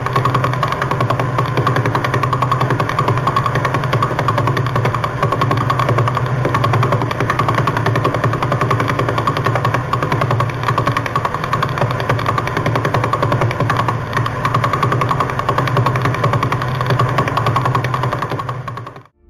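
A Vela Pulsar radio recording converted to sound: a dense, rapid buzzing train of pulses at over eleven per second, steady and loud for the whole span before cutting off abruptly.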